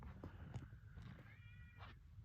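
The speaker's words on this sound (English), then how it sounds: "My cat's meowing at my door." A house cat meows at a closed door, a few faint, thin meows rising and falling against a low indoor background hum.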